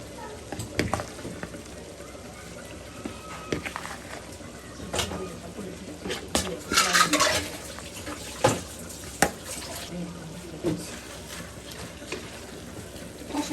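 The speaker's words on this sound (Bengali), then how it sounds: "ঠান্ডা পানি দিয়ে দিই আস্তে আস্তে" Cold water trickles and splashes gently into a pot of haleem, with occasional clinks and kitchen clatter around it, fairly close and moderately quiet.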